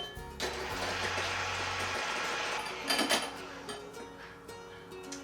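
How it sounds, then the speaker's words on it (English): An electric mixer whips two egg whites in a clean bowl toward stiff peaks, a steady whirring motor hum with clattering whisks that turns louder and rattly for a moment before settling back. "we're going to add the 2 egg whites to the bowl and beat until stiff peaks form"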